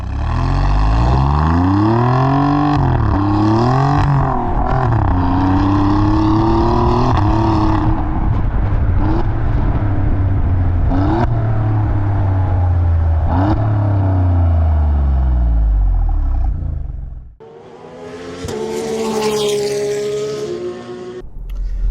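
An Alfa Romeo Giulia Quadrifoglio drives along, its engine note rising and falling loudly through repeated gear changes and revs before a brief lift-off and another strong acceleration.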